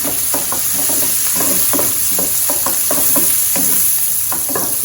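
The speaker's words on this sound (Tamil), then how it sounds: "இது கொஞ்சம் வதங்கி இருக்கு இல்லையா" Green chillies and turmeric fry in a pan for ridge gourd masala, giving a steady loud sizzle broken by repeated scraping strokes of stirring, with no talk.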